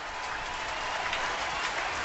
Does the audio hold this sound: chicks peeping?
no